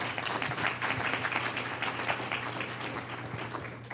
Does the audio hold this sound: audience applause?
yes